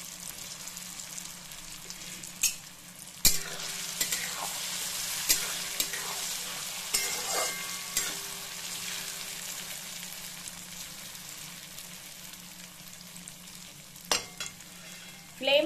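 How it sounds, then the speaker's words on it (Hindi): Small besan pieces deep-frying in hot oil over a high flame, giving a steady crackling sizzle throughout, punctuated by occasional louder clacks of a spatula stirring the pan. "इस तरह से डाल के हम इसे थोड़ा थोड़ा करके फ्राई करेंगे"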